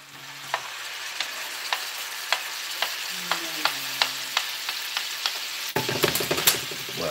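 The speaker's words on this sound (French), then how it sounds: "Voilà, et maintenant, on touille. On mélange le tout." Crushed strawberries are stirred into bubbling caramel in a pan, a steady soft sizzle with regular spoon taps roughly every half second, growing louder and denser near the end.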